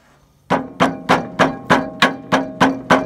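Steady hammer strikes on a Timberking 1220 sawmill while replacing its wheel belts, about nine sharp metallic blows in an even rhythm, loud and close, with brief ringing after each hit.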